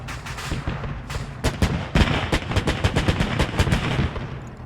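Gunfire in the video game Arma 3 during a World War II German paratrooper mission: a dense, continuous volley of loud shots and rapid bursts, overlapping and relentless throughout.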